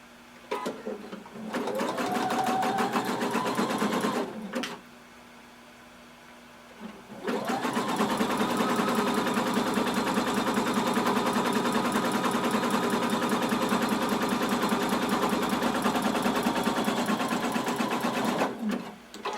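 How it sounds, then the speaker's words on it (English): A sewing machine stitches a swimsuit side seam in two runs, a short burst and then a long steady whirring stretch with a quick rhythmic clatter, nearby and alone with a pause between. "I'm going to pin and sew the other side seam the same way."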